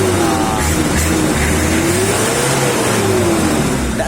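A diesel engine, its injection pump being adjusted, revving loudly and close up, a continuous roar whose pitch rises and falls as the throttle is worked.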